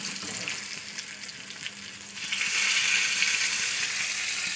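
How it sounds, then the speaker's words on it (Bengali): Fish sizzling in hot oil in a pan, a continuous hiss that swells louder partway through, with light stirring and occasional faint clinks and no voices. "দেখতে পাচ্ছেন মাছটা প্রায় ভাজা হয়ে গেছে"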